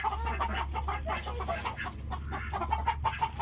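A local hen brooding duck eggs gives soft, steady clucks close up over a constant low hum.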